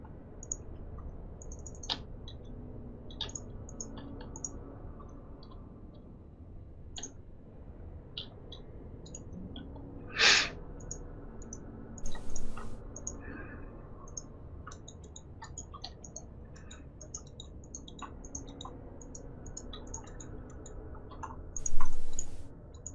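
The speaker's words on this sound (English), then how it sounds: "I hear a hell of a lot of clicking going on Clopse's side." Sparse, faint clicks tick away at irregular intervals during testing of an eXodus map, quiet against a low background hum, with a sharper burst near the middle and a louder bump toward the end.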